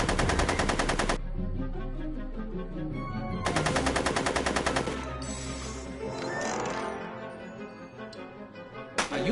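Bursts of rapid machine-gun fire in the Back to the Future video game, two long rattling volleys separated by a pause, then clattering mechanical noise and a final short burst at the end.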